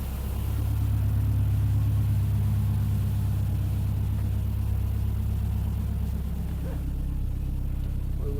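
A Saab 9-5 Aero's engine runs cold before warming up, a steady low idle rumble with a faint rhythmic pulse, close and constant throughout, without talk.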